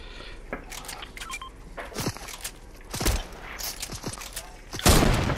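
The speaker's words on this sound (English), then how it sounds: "Somebody's shooting." Scattered gunfire in the battle royale game Fortnite during a trios match, a few sharp shots and bursts landing at varied distances over steady game ambience, the loudest near the end.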